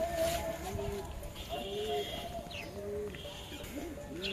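Pet pigeons in a home coop cooing and calling amid steady background noise, with soft repeated coos and a few chirps, moderately distant, and a person talking at times.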